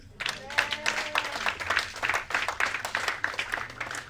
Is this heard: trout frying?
no